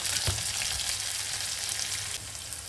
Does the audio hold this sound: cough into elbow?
no